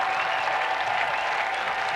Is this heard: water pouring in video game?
no